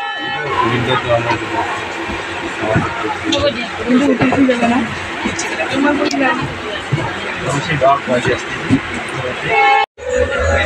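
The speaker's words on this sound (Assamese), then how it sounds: "ফাইনেলি আমি ট্ৰেইনত উঠি গ'লোঁ" A passenger train rolls along on the return trip from a youth camp, its steady rumble and rattling carriage noise loud and continuous, with people talking over it, then a sudden brief drop near the end.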